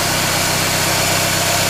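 Chevrolet Cavalier engine idling up under the hood during a tune-up with a vacuum line pulled off, a loud, steady, close-up hum with no talk.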